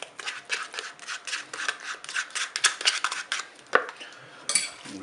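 A spoon scrapes and clinks against a bowl, stirring mustard, lemon juice and fromage blanc in steady, close, rhythmic strokes, with a few sharper taps of metal on the rim.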